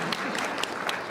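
A brief burst of audience clapping at a developer conference session in Seoul, dense and moderately loud, lasting about a second.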